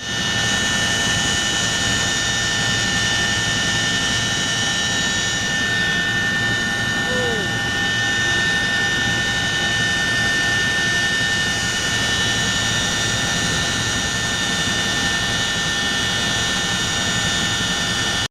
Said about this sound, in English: the aircraft starts taxiing along the flight line